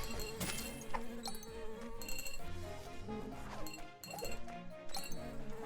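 A bee buzzes in the video game Secrets of Grindea, with thin insect drones amid game effects, hits and background music.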